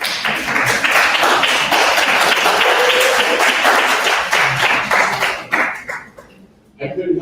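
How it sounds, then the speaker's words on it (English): Audience applause at a ring ceremony in Brownsville, a dense sustained burst of clapping from a crowd filling the room for about six seconds before tapering off, with a brief renewed patter at the end. "turn around and give them a big round of applause for their support of you."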